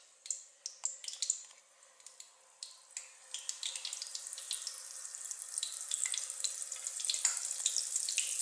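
Falafel balls are lowered into hot oil, setting off a soft crackling sizzle that starts with scattered pops and thickens into a steady, fairly faint frying hiss.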